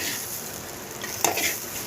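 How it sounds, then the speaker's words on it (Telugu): Beetroot halwa with vermicelli fries in a pan while being stirred, giving a gentle continuous sizzle with a brief spoon scrape and clink against the pan. "ఇప్పుడు బాగా కలుపుకుంటూ ఉండాలి"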